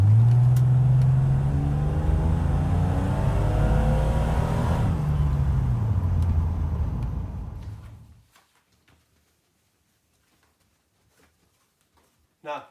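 A 1986 BMW E28 535i engine roars at wide open throttle, loud and close, its pitch climbing and sweeping over about eight seconds before cutting off abruptly into near silence.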